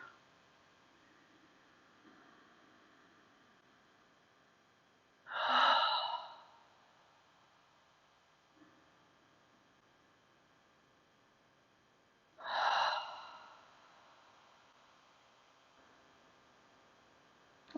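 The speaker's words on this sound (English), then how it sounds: "inhale through your nose and exhale, sigh your breath away" Two slow, audible breaths during a yoga rest pose, each a soft nasal inhale drawn into a longer sighing exhale, spaced about seven seconds apart, with faint quiet breathing between.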